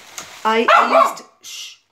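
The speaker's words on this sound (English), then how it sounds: "there's our friendly vegan dog" A pet dog gives a short vocal burst, a couple of yipping, whining barks up close in a home kitchen, followed by a brief breathy sound.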